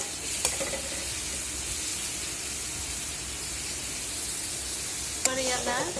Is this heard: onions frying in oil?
yes